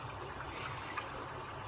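Garden pond water runs back into the pond in a steady, faint trickle and wash, low and continuous throughout, with no voices.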